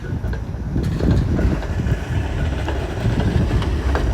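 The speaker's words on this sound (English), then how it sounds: "There's the 510 streetcar." A Toronto 510 streetcar rolls along its dedicated right-of-way on Spadina through Chinatown, a loud, continuous low rumble of steel wheels and motor close by on a quiet holiday street.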